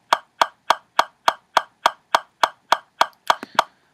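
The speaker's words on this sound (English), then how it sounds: "And 208 sounds like this." Rapid, evenly spaced metronome clicks at 208 beats per minute, about a dozen in quick succession, crisp and close.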